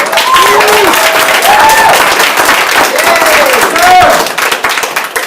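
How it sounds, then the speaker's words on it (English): A crowd at a sponsoring training meeting breaks into loud, sustained applause, dense clapping close by with several cheering voices and whoops rising over it before it tapers off near the end. "give her a round of applause"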